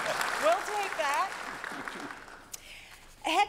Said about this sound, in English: You can applause for our station.